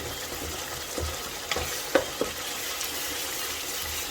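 A spoon stirs spices, mashed tomatoes and onions in a sizzling pan for a Lahori beef shank dish, with a soft continuous fry hiss and a handful of distinct scraping clicks and taps near the middle.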